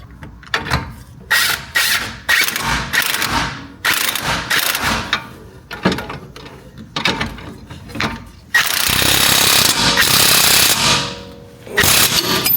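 Suspension bolts being tightened on a BMW X5 M while fitting Dinan lowering springs: loud, close bursts of ratcheting and metallic mechanical clicking in uneven runs, with a sustained harsh rasp toward the end and no talk.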